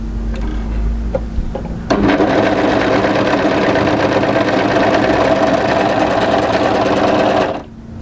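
Sewing machine running fast and steady while stitching the shoulder seam of a draped midi dress, starting abruptly after quiet handling sounds and stopping just before the end, close and loud.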